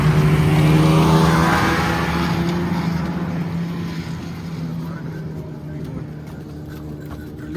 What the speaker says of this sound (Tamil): அதான் ஸ்னோ பைக்.